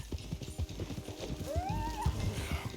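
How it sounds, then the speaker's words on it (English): A stallion in a video game lets out a rising whinny over quick, rhythmic hoof clip-clops, both close and clear for a few seconds. "One of the stallions is loose."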